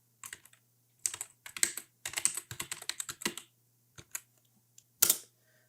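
Quick clicky keystrokes on a computer keyboard come in short irregular bursts, close and quiet, with brief pauses and a final firmer tap like the Enter key, no talk.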